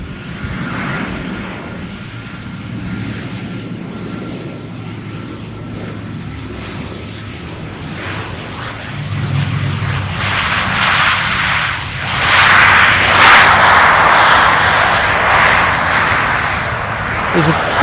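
An ATR turboprop airliner at Edinburgh Airport drones steadily, its engine roar swelling louder toward the end, with a voice talking over it.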